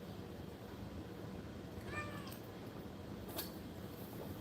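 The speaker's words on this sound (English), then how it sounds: "What's the matter, whiny kitty?" A cat gives a short, faint whining meow about midway, then a brief higher cry a bit later, heard alone against a steady background hiss.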